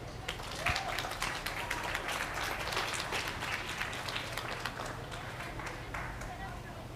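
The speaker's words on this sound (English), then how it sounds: "I think all four of them deserve a real big round of applause" Steady crowd applause at a livestock show ring for first-year junior showmen, a continuous dense patter of clapping that holds for several seconds at moderate level.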